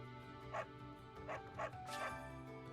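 A dog in the game Fire Emblem Three Houses lets out four short, separate barks and yips at moderate distance over steady background game music.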